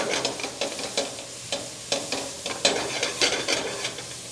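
Vegetables sauté in a pan with garlic just added, giving a steady sizzle punctuated by repeated scraping stirs every half second or so, close and moderately loud with no voices.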